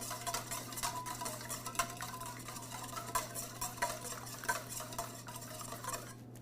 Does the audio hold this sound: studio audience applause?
no